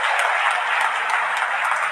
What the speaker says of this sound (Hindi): तालियां एक बार मिलकर बजा दीजिए जोर से।